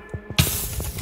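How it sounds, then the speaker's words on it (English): Fire in the video game Minecraft flares up suddenly with a loud crackling hiss after a few soft thuds, then burns on steadily to the end. "Oh shoot, I forgot about the fire."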